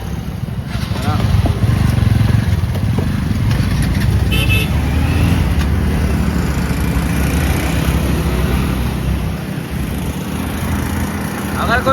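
A motorcycle rides through Delhi city traffic with no helmet, giving a continuous rumble of engine and road noise, surrounding vehicles and short horn toots, while voices speak over the din.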